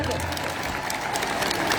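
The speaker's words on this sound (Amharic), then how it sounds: "አጨብጭቡለት።" An audience claps together in a hall, a dense burst of applause mixed with crowd noise and voices talking over it, fairly close and steady throughout.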